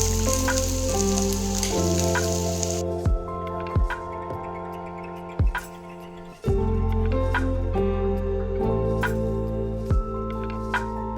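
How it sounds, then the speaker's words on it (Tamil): Quarter kilo of peeled ginger, cut into small pieces, sautéing in oil, a loud steady sizzle under a sustained droning tone, with a few sharp thuds and scrapes from stirring. "அதை எண்ணெயில் நல்லா வதக்கிக்கணும்."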